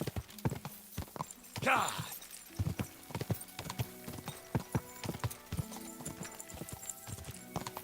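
Hooves clip-clop quickly on hard ground as a horse gallops in Kingdom Come: Deliverance 2, with a brief whinny early on and a shouted voice over the steady rhythm.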